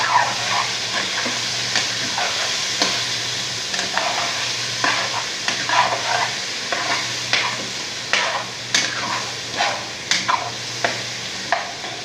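Beef offal and onions are stirred in a pan for kare-kare, with a steady sizzle and hiss under repeated scraping and clinking of a spoon against the pan, close up, with no talking.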